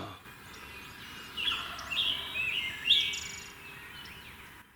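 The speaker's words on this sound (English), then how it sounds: "he's starting to gobble." A wild turkey longbeard gobbles in the Ohio mountains during spring hunting. Two or three distant, faint gobbles ring out in quick succession over a quiet woodland background.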